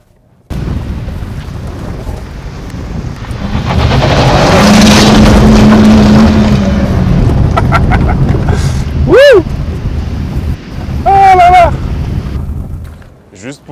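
An old car with a 1.6-litre petrol engine starts up and roars loudly, revving and idling close by, with brief whistling tones and voices near the end.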